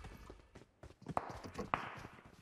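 Donkey hooves clip-clop through PUBG Mobile gameplay in a quick uneven run of hoof knocks, with voices chatting over them now and then.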